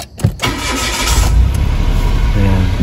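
A car's push-start engine cranks and catches with the key in its slot and the brake pressed, a short starter whirr followed by a steady, loud idle rumble close by.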